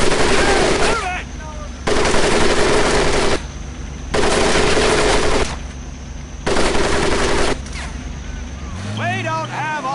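Loud machine-gun fire rakes a military training course in the video game Medal of Honor: Pacific Assault: four long sustained bursts separated by short gaps, with a voice near the end.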